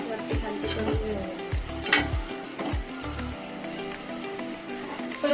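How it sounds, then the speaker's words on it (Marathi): Stuffed capsicum chillies sizzle steadily in a hot pan as they are turned over, with several soft scraping and clattering knocks of the utensil against the pan over the continuous frying hiss, nearby and moderately loud. "अशा प्रकारे सगळ्या मिरच्या वरती खालती करून घेऊया."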